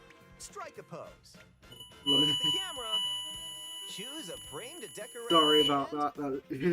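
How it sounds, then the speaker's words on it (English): A weekly fire alarm test sounds as a steady electronic tone that comes and goes behind lively talk, partly masked by the voices and mostly holding one pitch. "that's a fire alarm test"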